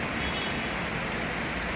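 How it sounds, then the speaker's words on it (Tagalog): A dense, steady roar of heavy rain pouring down, constant and loud with no pauses or voices. "Bigla po kung bumuhos ang malakas na ulan."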